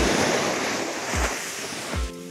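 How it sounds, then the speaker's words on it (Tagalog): Strong ocean waves roll in at a resort beach, a continuous close surf wash with two distinct low thumps of breaking water, wind buffeting the microphone over the top. "Mas malakas yung alon dito compared sa kabila."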